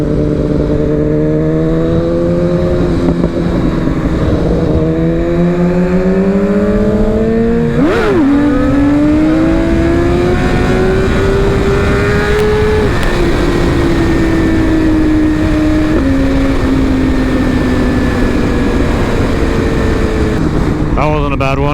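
BMW S1000RR motorcycle engine revving hard during a wheelie, a loud, close, rising and falling engine note that climbs in pitch, surges and holds through the clip, with wind noise and no clear talking.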